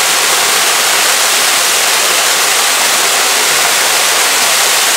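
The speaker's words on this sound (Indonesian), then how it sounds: "Air terjun kan?" A steady, loud rush of falling water from Donat Waterfall in Indonesia roars without pause, a constant hiss close by.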